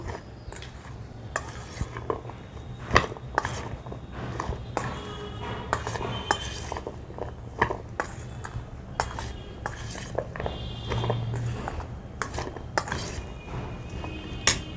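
Ingredients with ground black pepper and salt being mixed in a bowl, with repeated clinks and scrapes of a spoon against the dish over a soft background hum.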